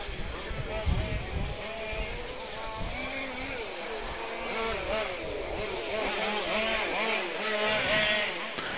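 Race cars at the DeSoto Grand Prix, an orange Alfa Romeo among them, pass with revving engine tones that rise and fall. A commentator talks steadily over the engine noise.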